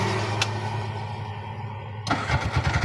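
A vehicle engine cranks and catches, first a brief starter whir, then a quieter pause before the motor fires and runs with a steady rumbling pulse, close by.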